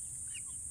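Black Australorp and Rhode Island Red mix hens cluck softly in a free-range yard, with a few short, faint calls over a steady background hiss and no talking.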